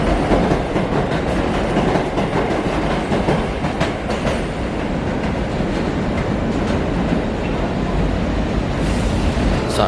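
A New York City 7 subway train rumbles loudly and steadily, wheels clattering on the rails with a constant roar throughout.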